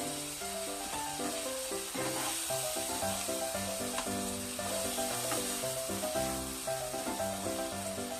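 Tofu sisig sizzles in a pan over low fire as it is mixed, a continuous crackling hiss that stays even and close throughout, with faint music underneath.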